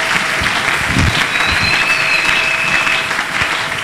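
A church congregation applauds in a sustained, dense burst of clapping that fills the room evenly from start to finish.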